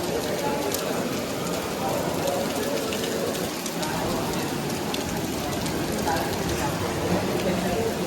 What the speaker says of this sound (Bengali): নিচে দেখতে পাচ্ছ প্রচুর বৃষ্টি হচ্ছে।